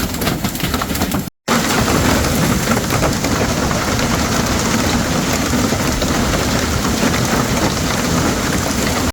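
Heavy, dense rain and hail pound steadily with a deep rumble of thunder underneath, loud and continuous after a brief cut near the start.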